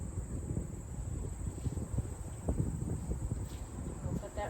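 Gusty outdoor wind buffets the microphone in a steady low rumble, with brief stronger gusts and light scattered knocks underneath, while someone works with pumpkin decorations on a tray.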